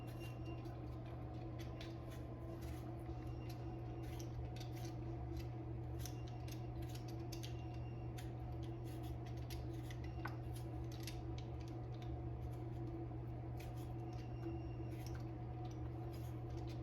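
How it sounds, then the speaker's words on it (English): Kiwi fruit being peeled with a vegetable peeler, a series of quick, close scraping strokes over a steady low kitchen hum, fairly quiet with no voices. "So I'm going to peel a kiwi. So you can just use a vegetable peeler."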